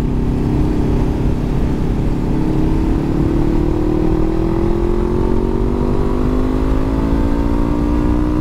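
A Honda CB500F motorcycle engine roars loudly and steadily as it accelerates on a freshly resurfaced road, its pitch climbing smoothly through the revs, close up and without any talking.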